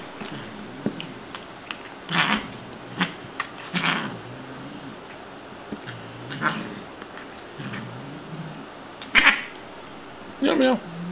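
Shiloh the cat meows in short, scattered bursts while playing with a purple feather on a plastic stick, the calls close and moderately loud with quiet gaps and light rustling between them.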